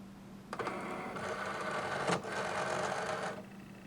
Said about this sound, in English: I have the deep cutting blade in the machine.